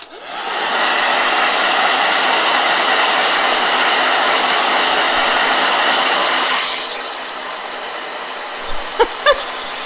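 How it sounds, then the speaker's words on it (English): A hair dryer blows loud and steady for nearly seven seconds, then cuts off, leaving a quieter room with a few faint knocks near the end. "All right, blow dryer."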